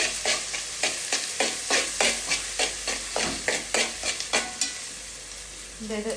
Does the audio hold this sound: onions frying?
yes